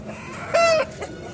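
A country rooster at a poultry market in Anantapur lets out a single brief call, close and fairly loud, over faint background noise.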